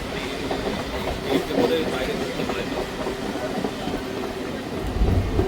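A crowded Howrah to Digha local train runs along with a steady rattling rumble and faint clickety-clack of wheels, moderately loud, with indistinct voices of passengers murmuring underneath.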